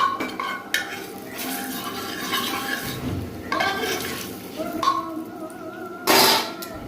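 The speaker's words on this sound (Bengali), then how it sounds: "হলুদ দিয়ে নাড়বো।" Turmeric stirred into mustard seeds and dried red chillies tempered in a pan, with a metal spoon scraping and clinking against the pan in short bursts over a soft background sizzle.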